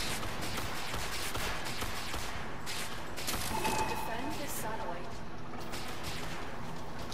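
The Kuva Lich Ayanga arch gun fires in the video game Warframe, a continuous, dense barrage of rapid gunfire and blasts over background game sound.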